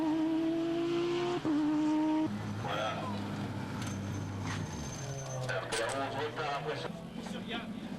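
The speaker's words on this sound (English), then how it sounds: "He comes into the pits after almost an hour and a half of racing." A vintage race car in a historic endurance series pulls into the pits after nearly ninety minutes of racing, its engine note dropping and shifting as it slows, heard under continuous race commentary and nearby crowd and track noise.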